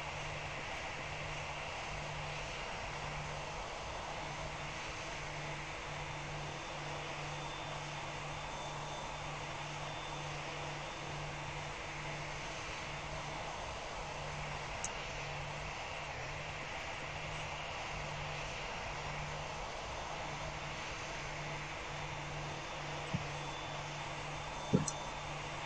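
Boeing 737 engines droning inside a flight simulator game, a steady, fairly quiet cabin hum with a low pulsing tone, unchanging for the whole stretch, with a faint click near the end.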